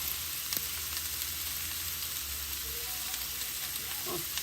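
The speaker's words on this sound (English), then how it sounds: "And we're gonna let it roast." Peppered gizzard seasoned with salt and ginger powder sizzles and fries in a pan, a steady close crackle with a few louder pops and stirring sounds.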